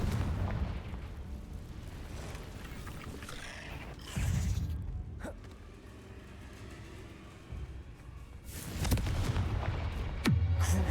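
Blasting-curse explosions in Hogwarts Legacy inside a cave, heavy booming bursts at intervals over a rumbling background, a few strong blasts spread through the stretch.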